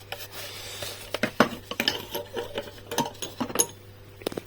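Handling and fitting the coolant reservoir onto a Melver MV-28 machine, with scattered metallic clicks, scrapes and knocks at irregular intervals over a low steady hum, close and moderately loud.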